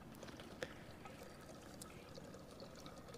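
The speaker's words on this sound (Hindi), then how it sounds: "बकरी के बालों से ये दूध छान रहे हैं अभी" Goat milk poured and strained through goat hair makes a soft, continuous trickling pour, faint and steady over quiet outdoor background noise.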